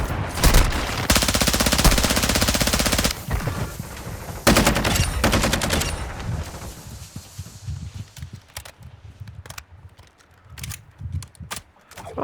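Rapid automatic gunfire in a video game rattles off in two long, loud bursts, followed by scattered single shots and lighter clatter as the shooting thins out.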